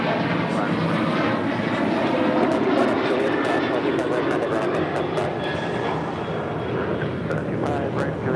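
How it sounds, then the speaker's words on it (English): An Alaska Airlines Boeing 737-800 takes off at LAX, its jet engines producing a loud, steady broadband roar that holds throughout with slight swells. "This is Alaska Airlines 1332 taking off to Laredo, Baja California on a 737-800"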